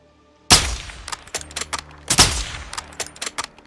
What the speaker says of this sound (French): Merde, il a entendu le coup de feu.